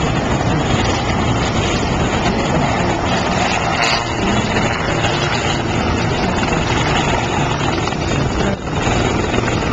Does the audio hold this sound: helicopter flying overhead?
yes